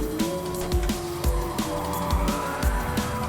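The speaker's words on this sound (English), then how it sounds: "I'm going to smash down the gears." Rapid downshifts of a road car in the Gran Turismo racing game, with about six sharp engine blips in quick succession, each rev spike falling over a steady loud engine drone with faint tyre noise.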